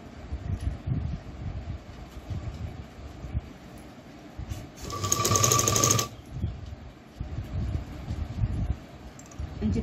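Sewing machine stitching a folded fabric corner, a short steady mechanical burst of about a second amid quieter handling and rustling, no talk.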